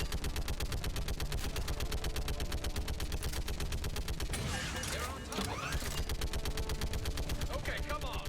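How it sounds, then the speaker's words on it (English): Rapid, steady turret gunfire in Mass Effect, a loud continuous stream of evenly spaced shots from a mounted gun, with brief explosive bursts midway and no talking. "Killing shit with the turret."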